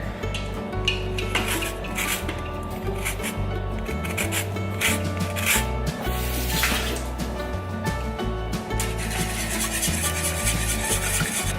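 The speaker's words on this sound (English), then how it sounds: "And then we're gonna add the zest of 1 lemon" Lemon zest being grated gives a steady rasping scrape, close and continuous, under background music with no talking.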